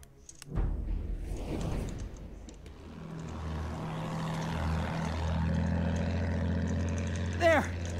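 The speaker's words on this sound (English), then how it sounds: "Enemy plane!" An enemy biplane in the World War I shooter Battlefield 1 drones overhead. Its propeller engine builds from a distant hum to a steady, louder rumble over several seconds, mixed with a bang and other battlefield noise.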